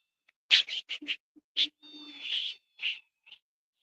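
A series of short, high cat meows in quick succession, some clipped and one drawn out, clear and close against silence.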